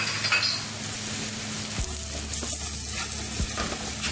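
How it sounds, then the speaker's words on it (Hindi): Ground coriander and cumin with turmeric, red chili powder and green chilies sizzle steadily in hot oil for sambar, close up, with a few spoon scrapes and clinks against the pan and no talking. "धनिया और जीरा पाउडर इसमें शामिल कर देंगे। थोड़ा सा भूनेंगे।"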